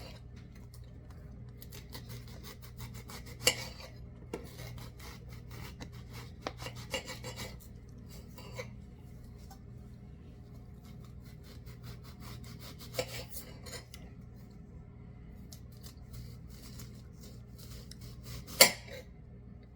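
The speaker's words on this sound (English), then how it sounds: "We're getting ready to cut a red onion up." A knife slicing a red onion into rings on a cutting board, with sharp cuts and knocks scattered over a quiet rasping background, close and fairly faint, including one louder chop near the end.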